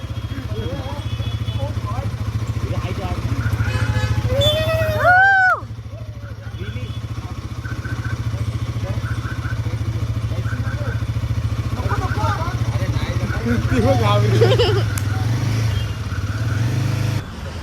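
A motorcycle engine runs steadily nearby with a low, even hum that dips briefly and then resumes, while several people talk over it throughout.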